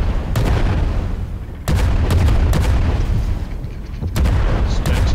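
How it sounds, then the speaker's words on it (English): Cannons boom in a video game in a dense, loud run of blasts, with sharp cracks and heavy rumbling bursts that break off briefly and then resume. "Gotta remember the cannons push us back a bit as well."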